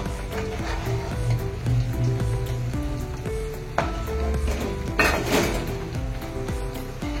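Besan is stirred into simmering water in a pot, with a spoon knocking and scraping against the metal in an uneven rhythm over a steady background hiss, close by and moderately loud.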